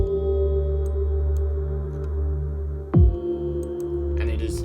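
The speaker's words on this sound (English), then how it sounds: "the kick drum, and the bass, and it sounds like this." A deep sustained bass with a steady electronic tone and a sharp kick-like thump midway, followed by faint high bell-like hits.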